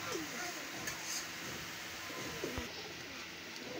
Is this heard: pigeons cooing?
yes